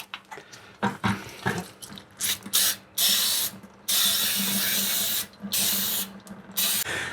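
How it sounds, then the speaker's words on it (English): Brake cleaner hisses from an aerosol can onto parking brake parts of a 1985 Ford F-150 pickup in a run of short spurts followed by longer sustained sprays, close and loud, with small metallic clicks between bursts. "I'm going to start out by just kind of cleaning things off with some brake cleaner"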